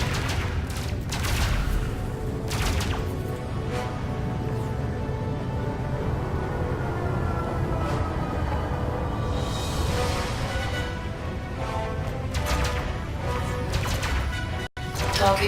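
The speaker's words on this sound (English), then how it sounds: "Oh, I think that cannon blast got him." Spaceship cannon fire and heavy combat blasts from Elite: Dangerous, sounding as a steady, loud wash of repeated booms and impacts over a continuous engine rumble, with a few sharper bursts standing out.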